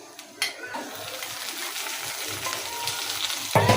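A pan sizzles steadily as ingredients fry for a chicken soup, with a soft crackle throughout and a sharp metallic clink near the end.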